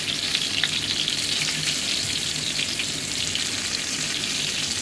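Eggplant slices fry in mustard oil in a large frying pan, giving a steady, close, even sizzle throughout with no talk.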